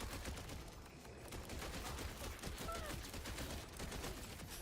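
Rapid sustained gunfire from a Borderlands 4 video game, dense bursts of shots running continuously without pause at a steady loud level, with no talk over it.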